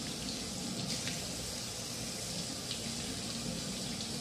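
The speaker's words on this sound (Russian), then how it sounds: "И вот так вот тщательно каждый кусочек холодной водой" Cold tap water runs steadily as food pieces are rinsed under it at a kitchen sink, a close, even splashing flow throughout.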